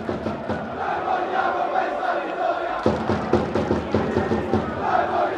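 Football fans in the south stand of a stadium applaud the Akragas team before a match against Enna, a broad crowd roar with steady clapping and cheers, dense and continuous from mid-distance, while a commentator talks over it.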